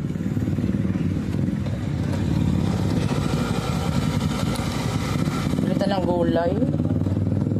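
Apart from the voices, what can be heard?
motorcycle riding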